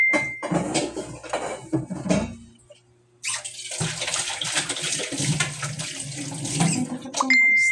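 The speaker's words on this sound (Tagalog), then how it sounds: "Tatakpan natin. Takpan ko na siya guys." A lid goes onto a cooking pot with a few close clanks of metal, followed by a broad, steady rush of running water or vigorous bubbling, with no talking.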